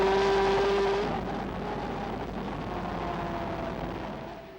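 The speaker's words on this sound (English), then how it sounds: "begin to accelerate 2nd, then short shift to 3rd, then accelerate hard onto the main straight" A racing motorcycle engine in a classic GP racing video game, loud and droning as it accelerates hard onto the main straight, the tone easing as gears shift, with no voices.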